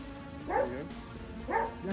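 A big dog barks two or three times, fairly faint and at some distance, over a steady background hum.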